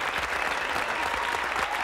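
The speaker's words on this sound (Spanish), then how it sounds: "Dámele aplauso, que se escuche ese aplauso." Studio audience at a Liga MX quarterfinal football talk show claps in a dense, steady burst of applause, loud and continuous with no speech over it.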